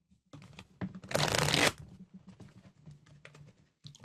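Tarot cards being shuffled close up, a dense riffling burst of about half a second in the middle, surrounded by softer sliding and tapping of the deck on a surface.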